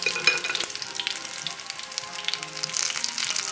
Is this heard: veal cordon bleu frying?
yes